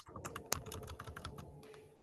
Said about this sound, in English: we really hear the use of the keyboard